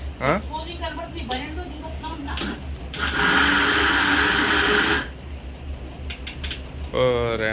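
A mixer grinder (mixie), used while cooking crab curry with cauliflower, roars loudly and close for about two seconds before cutting out, with people talking before and after the burst.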